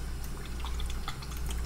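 Two cups of water pour into a cooking pot in a home kitchen, a close, steady splashing and trickling stream with a low hum beneath.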